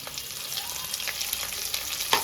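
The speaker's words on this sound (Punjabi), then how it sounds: "ਪਿਆਜ਼ ਨੂੰ ਆਪਾਂ ਇੱਥੇ ਹਲਕਾ ਗੁਲਾਬੀ ਹੋਣ ਤੱਕ ਭੁੰਨਣਾ ਹੈ" Sliced onion fries in a pan with garlic and ginger over a medium gas flame, giving a soft continuous sizzle with occasional stirring scrapes.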